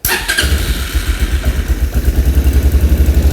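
A Linhai ATV engine cranks and fires, then settles into a loud, close, rapid chugging idle with a steady rhythmic pulse.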